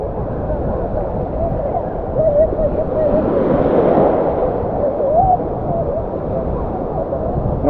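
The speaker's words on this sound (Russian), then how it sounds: "Да, море штормит." Stormy sea at Anapa beach: broad, steady roar of rough surf with wind noise, swelling slightly midway, continuous and fairly loud throughout.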